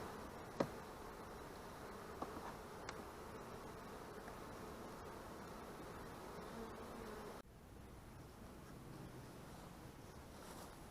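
Honey bees buzzing at a backyard hive, a continuous dense hum from many insects that softens partway through, with a few faint knocks and clicks.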